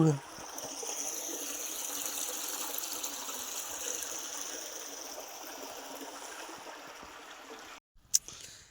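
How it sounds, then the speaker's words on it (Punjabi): Fast-flowing canal water rushes in a steady, full roar heard at close range outdoors. It cuts off abruptly near the end, followed by a brief handling knock. "ਪਾਣੀ ਦੇ ਕਿੰਨੀ ਸਪੀਡ ਨਾਲ ਆਉਂਦਾ ਦੇਖੀ ਨਹਿਰ ਦਾ ਪਾਣੀ ਜ਼ਿਆਦਾ ਹੁੰਦਾ ਹੈਗਾ"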